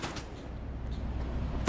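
Enemy gunfire in a video game, a steady stream of distant shots running continuously under a low rumbling backdrop, with a sharper burst near the end.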